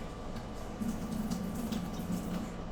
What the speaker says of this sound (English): Let me run some water real quick.